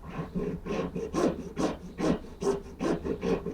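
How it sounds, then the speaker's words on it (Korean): Hand file rasping along the inner edge of a jewelry ring, about eight rhythmic back-and-forth strokes, close and moderately loud with no voices. "반대쪽 면도 이제 똑같이 여기 비율을 맞춰 가지고 이렇게 안쪽으로 다듬어 줄게요"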